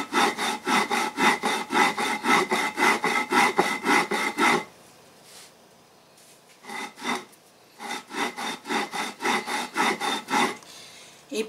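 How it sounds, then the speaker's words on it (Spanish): Rice being ground on a stone metate: loud, steady back-and-forth rasping strokes in a regular rhythm, pausing for a couple of seconds before resuming with more strokes, no talking. "Y vamos a remoler este arroz hasta que quede hecho polvo."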